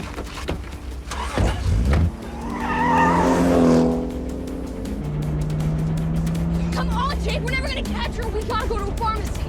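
Car chase with tires skidding: a loud tire squeal swells and fades over a rumbling engine, followed by a steady lower whine of the car moving away.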